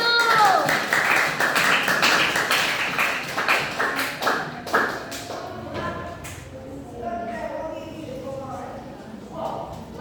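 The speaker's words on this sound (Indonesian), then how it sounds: "Tepuk tangan untuk kelompok 1." An audience claps for group 1 at a class or school presentation, a dense burst of applause that gradually thins and fades, with voices talking over it.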